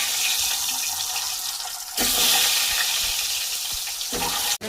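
Eggs frying in a pan with turmeric give off a loud, steady, close sizzle that swells sharply about two seconds in, with a few faint knocks and scrapes over the constant hiss.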